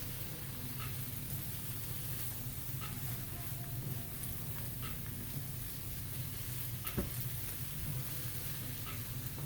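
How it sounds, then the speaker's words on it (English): Diced peppers and onions sizzle steadily in a hot skillet, a constant soft frying hiss with occasional faint pops and ticks, fairly quiet and without talk. "the sound of peppers and onions sizzling is one of my favorite things"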